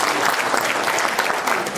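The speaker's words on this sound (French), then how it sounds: "vous l'applaudissez" An audience claps loudly and densely for a speaker being handed the microphone, a brief burst of applause with no pause.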